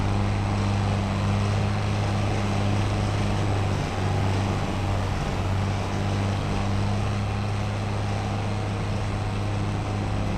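A farm tractor engine in Farming Simulator 22 drones steadily and loudly at a constant low rumble for the whole stretch, with no voices.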